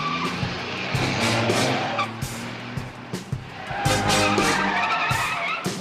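A stolen car speeds off with its tires skidding and squealing. Loud engine roar and rubber screech hold steady throughout, over a busy, dramatic background with no speech.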